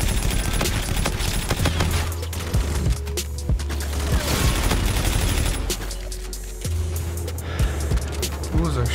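Rapid bursts of gunfire crackle through a Call of Duty: Infinite Warfare free-for-all match on the Frontier map, mixed with game effects and a voice talking over the action.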